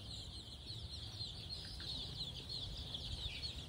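Local chicks about fourteen days old, a flock of around three hundred, cheeping and clucking softly and continuously at a distance over a low background hum.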